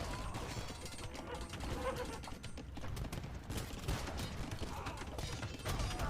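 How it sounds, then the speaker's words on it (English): Bombard cannons fire in an Age of Empires–style strategy game amid battle noise, with dense rumbling impacts and crashes running steadily throughout, under faint scattered game sounds. "Those villagers will feel the wrath of the bombard cannons."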